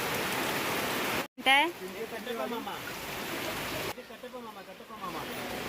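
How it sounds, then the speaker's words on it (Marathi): Heavy rain pours over a Sunday market in Sawarde, Chiplun, a constant hissing wash that runs beneath people talking, briefly cut off near the start. "भरपूर पाऊस आहे"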